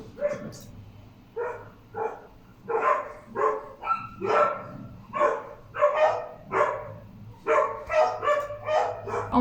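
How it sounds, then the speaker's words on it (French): Several dogs bark in repeated bursts close by, a steady run of loud woofs and yips filling the stretch with only brief gaps between them. "C'est insupportable les chiens."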